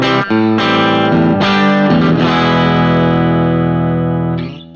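A T-style electric guitar fitted with Klein Epic 52 pickups, played through a ZT Lunchbox amp at full volume, rings out in sustained chords with a few sharp restrikes and a final fading decay, loud and alone.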